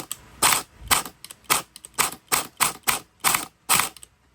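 A&K AK74 gel blaster fitted with a new mosfet firing about nine sharp single shots in a fairly even rhythm, close and clear; no talking.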